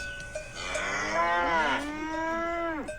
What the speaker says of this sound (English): Cows mooing and their bells.